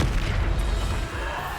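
A Bombarda explosion spell cast in the video game Hogwarts Legacy, a loud rumbling boom that sustains as a continuous roar through the whole moment with no talking.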